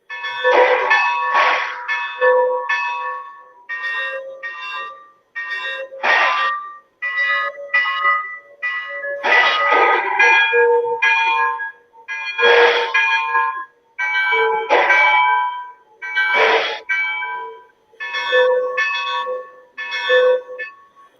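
A Lionel Legacy model train locomotive bell rings in repeated clanging bursts, pitch shifting between groups, with short pauses in between; clear and close with no speech.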